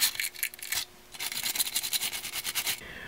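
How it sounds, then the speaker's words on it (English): A brush scrubs briskly inside the magazine well of a Glock pistol frame, giving dry rasping strokes in a quick back-and-forth rhythm, close and fairly loud, with a short pause partway through. "You can clean down into your mag well, just getting your brush down there, making sure there's nothing."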